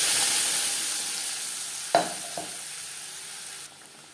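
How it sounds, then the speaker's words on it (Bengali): Onion and tomato paste goes into oil left over from frying fish, giving a steady loud sizzle with a brief clatter partway through. The sizzle eases toward the end, close and with no voices. "মাছ ভেজে নেওয়া তেলে দিয়ে দেবো পেঁয়াজ টমেটোর পেস্ট।"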